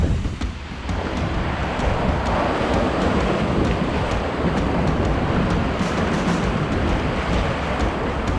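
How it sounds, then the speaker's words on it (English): Strong wind buffets a microphone at a crabbing pier in Maryland, a steady loud roar with gusty rumble lasting throughout, no voices. "Just hoping this wind lays down."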